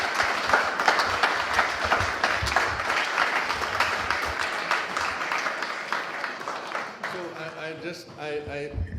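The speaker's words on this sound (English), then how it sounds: "you're so much clapping for me" Audience applause at an Austrian premiere event, dense and loud for about seven seconds before fading as a voice begins speaking.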